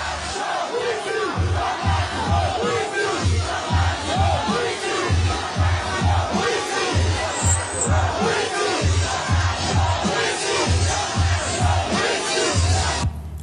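Rally crowd heard through video playback, chanting and shouting in a strong repeated rhythm, a dense massed roar that carries on almost without a break.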